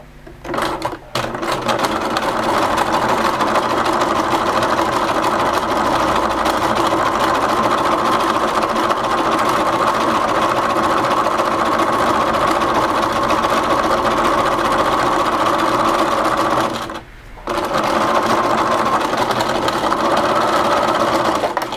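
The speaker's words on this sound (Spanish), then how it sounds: "Nos vamos a la máquina de coser y cosemos de lado a lado" Sewing machine running steadily as it stitches a knit collar from one edge to the other, a loud continuous whir with a brief stop near the start and another pause late on.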